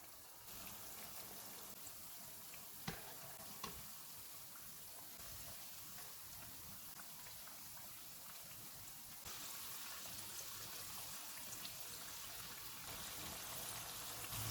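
Aloo gobhi pakoras fry in hot oil over a low-to-medium flame, giving a steady, faint, rain-like crackling hiss that swells slightly near the end, with a couple of small pops and no speech.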